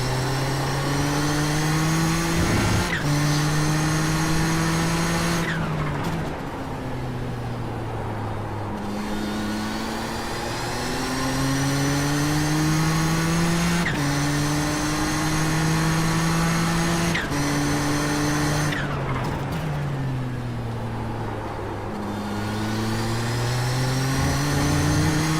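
A Group C sportscar engine at Watkins Glen screams loudly through a racing game lap, climbing through the revs with sharp upshifts and dropping on downshifts for corners, in repeated cycles.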